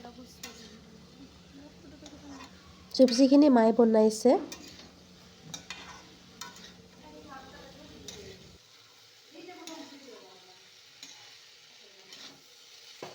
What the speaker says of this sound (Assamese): এই আলু আৰু বিলাহীখিনি ভাজিব লৈছে